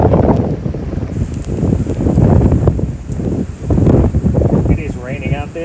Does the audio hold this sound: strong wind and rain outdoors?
yes